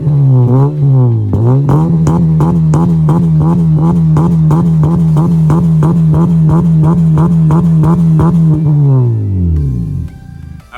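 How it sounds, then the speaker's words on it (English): A Honda Stream RN6 with a deep, throaty muffler exhaust revs up, holds a steady pulsing idle for several seconds, then winds down and shuts off. "how this muffler sounds"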